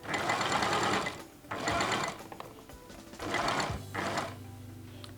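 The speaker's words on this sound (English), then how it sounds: "now I'll be stitching with 1/2 inch seam allowance downward from the upper part to the lower part" A sewing machine runs in close, steady bursts while stitching shirt fabric with a half-inch seam allowance. A rapid mechanical whir stops and starts several times.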